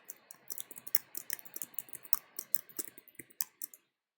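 Typing on a computer keyboard while entering code settings, a steady run of quick, light key clicks with uneven rhythm, close and fairly quiet, stopping near the end.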